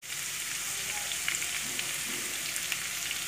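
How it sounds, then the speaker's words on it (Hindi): Cumin seeds and curry leaves frying in oil in a home kitchen pan give a steady, fairly quiet sizzle with faint crackles, continuous throughout and without talk. "थोड़ा सा भून लेंगे।"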